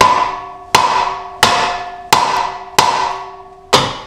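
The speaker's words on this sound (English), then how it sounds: "get a big hammer and hit it right there" Six heavy, ringing metal hammer strikes on a 1990 Honda Civic steering tie rod at a steady pace, each blow loud and close, with a bright clang that decays before the next hit.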